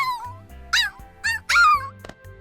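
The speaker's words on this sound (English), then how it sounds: "The dogs bark at Yuzuyu in vain as she pulls the frisbee towards her chest." Dogs in the visual novel game Fureraba yapping in a few short, high-pitched barks and yips, set over a light background music loop.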